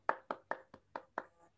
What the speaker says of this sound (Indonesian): Tepuk tangan untuk OD.